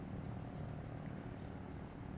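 A helicopter flies in the military video game Arma 3, its rotor and engine making a steady, faint drone heard from inside the cabin with no talk over it.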